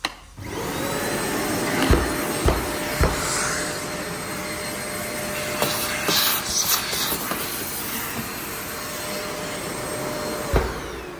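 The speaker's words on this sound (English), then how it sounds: "I do like this Hilti vacuum." A loud Hilti shop vacuum runs steadily with a constant whining hum, broken by a few sharp knocks and rattles as debris is sucked up.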